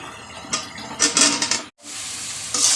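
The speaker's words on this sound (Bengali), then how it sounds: "আমি সেই বেগুন আর আলুটা এর ভিতরে দিয়ে দেব" Eggplant and potatoes drop into a hot pan of frying pomfret fish, setting off loud close sizzling that swells in bursts, cuts out briefly, then resumes steadily.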